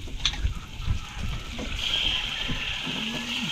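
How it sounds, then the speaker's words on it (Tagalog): Water poured into a pan of adobo as it cooks, a steady sloshing, splashing stream close by over the sizzle of the pot, with faint background sounds. "Guys, lagyan natin ng tubig."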